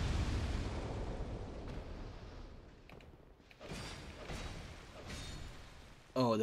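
A gunpowder blast set off by a fire longsword in Dark Souls 2 starts as a heavy rumbling boom and slowly dies away. A few lighter bursts follow, and a sharp noise cuts in at the very end.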